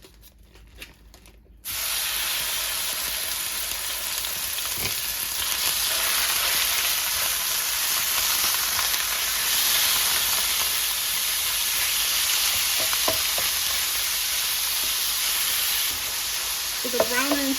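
Ground beef frying in a hot olive-oil skillet, a steady loud sizzle starting after a quiet moment, with occasional scraping clicks as the meat is crumbled and brief faint speech near the end.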